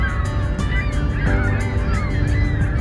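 A flock of geese honks beside a frozen river in Canada, with continuous overlapping calls that are loud and busy and carry no voices.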